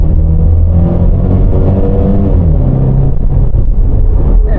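A Ford Cortina Mk3 with a new 2-litre carburettor engine pulls hard along a wet country road, giving a loud, continuous rumbling drone that stays steady and close throughout, with no talking.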